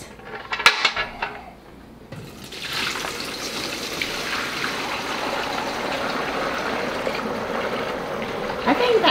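Fresh cow's milk is poured through a strainer after a first morning milking, a steady close trickling stream that settles into a continuous gush, preceded by a few clinks of a jar or pot.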